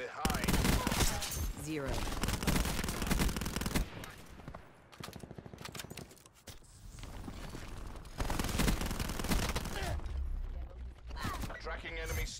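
War Machine grenade launcher firing in Call of Duty: Black Ops 4: dense, loud volleys of heavy shots and blasts in a busy multiplayer fight, with a brief spoken callout mixed in.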